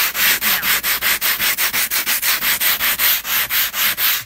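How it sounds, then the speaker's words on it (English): Sandpaper rubs back and forth on painted wood in quick, even strokes, a loud rhythmic scratching up close with about twenty passes. "I'm sanding in the same direction that I painted."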